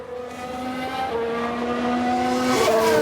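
In F1 Manager 22, a Red Bull Formula 1 car spins out: a close, steady engine whine rises and shifts pitch while the tires squeal and skid, with no voices over it.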